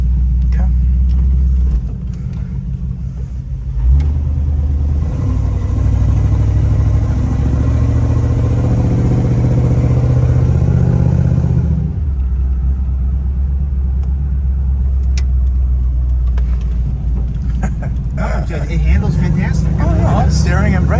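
The engine of a 1962 Buick Electra 225 two-door hardtop rumbles at a low, steady idle while being parked in a garage, close and continuous, with a quieter pause partway through.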